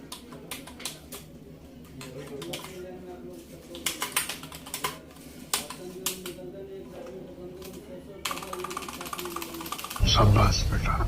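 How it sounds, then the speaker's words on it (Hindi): Clacky keystrokes on a budget semi-mechanical gaming keyboard from EURO Games, irregular bursts of close typing with brief pauses, ending in a louder rustling thump. "मैं इसको थोड़ा टाइपिंग करके दिखा देता हूँ आपको। इसके की का साउंड आप सुनिए।"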